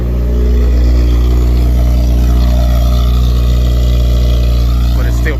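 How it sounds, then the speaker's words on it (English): An 8th-generation Honda Civic Si idles with its silencer fitted in the exhaust, giving a loud, steady, deep drone that stays constant from close by. "Sounds a lot louder, but I do have the silencer on still, so it's not as loud."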